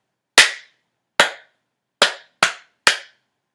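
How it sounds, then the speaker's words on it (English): Five sharp, close hand claps in an uneven rhythm, two spaced evenly, then a quick pair and a final clap, each dry and separated by silence. "I'm going to clap it one more time"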